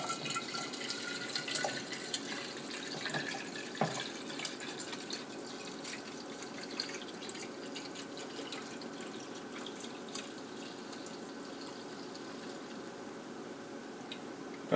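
Buttermilk pours carefully into a scalded glass jar without a funnel, giving a soft, steady trickling and dripping of liquid, with faint clinks early on before the flow settles into a quiet, continuous stream.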